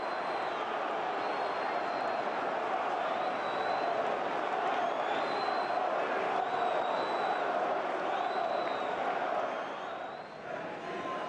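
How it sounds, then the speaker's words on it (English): Football stadium crowd roaring after a missed shot in front of goal, a broad, loud, sustained wash of many voices that eases off near the end. "For a definition of relief, watch the crowd reaction"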